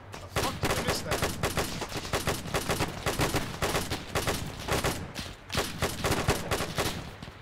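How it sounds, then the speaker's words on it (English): Rapid bursts of World War II small-arms and machine-gun fire ring out in ARMA 3 with a Faces of War mod, loud and repeated in rhythmic volleys with brief gaps between. "Left side, Jerome, left side. Shoot your fire left"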